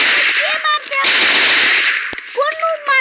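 Rifle gunfire in a video game rings out as sharp, loud rapid bursts, separated by brief gaps where a voice talks.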